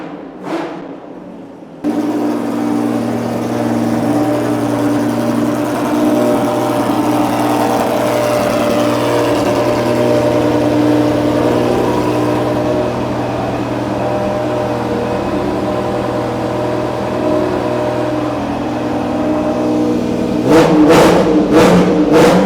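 Nissan race cars at the NISMO Festival, among them Super Taikyu cars on 18-inch wheels and fat tyres, idle loudly during warm-up with a steady multi-toned drone, then rev in several sharp blips near the end.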